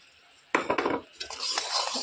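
A spoon scrapes and clatters against a pan while sweet amla pickle with melted jaggery is stirred, a sudden metallic clink followed by softer scraping and faint sizzling, quiet and close.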